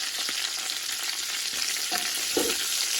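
Pork fat (salo) sizzles and crackles steadily as it renders in a pot, a dense close frying hiss with a few small pops and no talking.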